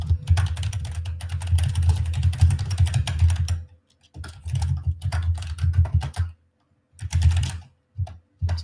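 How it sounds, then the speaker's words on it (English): Loud computer keyboard typing during a live futures trading session, with dense bursts of rapid clattering keystrokes, short pauses, then more clusters of clicks close to the microphone. "Sorry if the keyboard's super loud."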